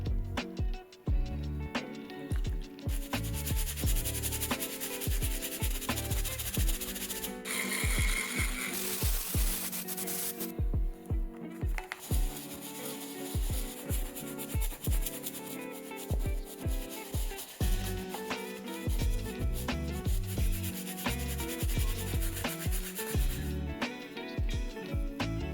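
A medium brush scrubs the lining of a Nike Air Max 1 Patta sneaker, giving close, rhythmic rubbing strokes that repeat steadily through the whole stretch with no talking.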